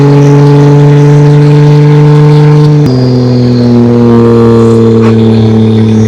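Nissan R32 GTR engine with a Tomei exhaust, picked up by a mic mounted under the car: a loud, steady harmonic drone that drops in pitch mid-way as the revs shift, then carries on strong, with no talking.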